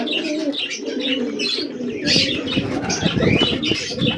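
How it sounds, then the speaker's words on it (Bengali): Flock of pigeons at morning feeding, with steady low cooing from many birds, scattered chirps and bursts of wing flapping, all close and continuous. "এই কটা হচ্ছে এখনকার পায়রা আছে, এই হচ্ছে পায়রার অবস্থা"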